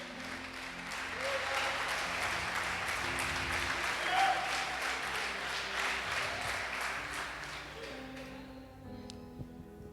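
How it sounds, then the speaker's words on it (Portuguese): A church audience applauds in a sustained, fairly distant round of clapping that swells and holds for several seconds before tapering off near the end. "Agora sim, aplauda ele."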